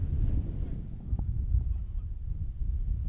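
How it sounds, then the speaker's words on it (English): Heavy low rumbling wind buffets the microphone throughout at an outdoor cricket ground during a match, a steady roaring gust noise with faint distant sounds beneath. "Very windy conditions here at the VOJN grounds."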